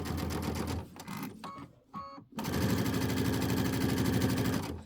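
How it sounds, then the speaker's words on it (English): A sewing machine back stitching a Let It Snow pillow top, a rapid mechanical rattle that stops briefly and then resumes in a steady, loud, close run. "I'm going to back stitch and then come on."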